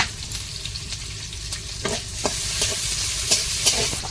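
Onion, garlic, green chili and nigella seeds frying in hot oil, a steady close sizzle with scattered spoon scrapes and stirring clicks, growing a little busier toward the end, no voices.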